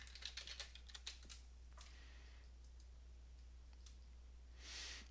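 Password being typed on a computer keyboard during a login, a quick burst of light clicking keystrokes followed by a few scattered taps, close and quiet over a steady low hum.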